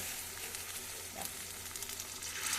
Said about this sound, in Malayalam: അതുകൊണ്ട് നമ്മൾ നല്ല തിളച്ച വെള്ളം അതിലേക്ക് ഒഴിക്കുന്നു